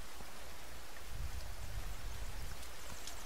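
Steady rain falls in The Forest survival video game, a continuous broadband hiss with a low rumbling undertone, fairly quiet and even throughout with no talking.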